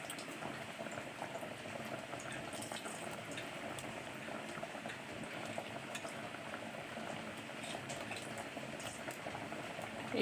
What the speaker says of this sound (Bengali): এইদিকে আমার তরকারি টক বক করে ফুটছে।